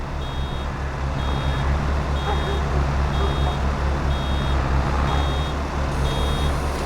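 In Farming Simulator 22, a full baler sounds its warning, a steady series of evenly spaced high beeps repeating about every second over a loud, continuous low tractor engine drone.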